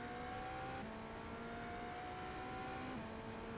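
The BMW M Hybrid GTP prototype race car in iRacing at Mexico City, with a steady, loud engine drone that holds a high pitch and then shifts a little as the revs change, heard alone without talk.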